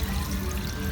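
Water poured from a container into a pot for fresh lumpia sauce, a steady, close splashing gush lasting about a second without talk.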